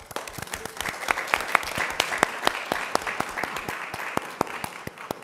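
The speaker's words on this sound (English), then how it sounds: "And I think that deserves some applause." Applause from an audience at a school district board of trustees meeting, a steady round of many hands clapping with crisp individual claps standing out, sustained and moderately loud throughout.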